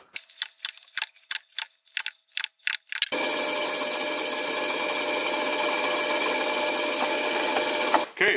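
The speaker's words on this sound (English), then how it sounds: "Now I have drilled all these holes through" A power drill bores holes through a part while mounting a stepper and 3D-printed drivetrain parts, first in about ten short, evenly spaced bursts, then in one long, loud, steady whine of several seconds that cuts off sharply.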